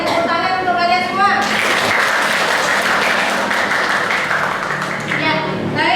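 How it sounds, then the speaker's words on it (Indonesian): A vocational school class applauds students' presentations, steady close clapping filling the room, with voices heard at the start and end. "Tepuk tangan untuk kalian semua."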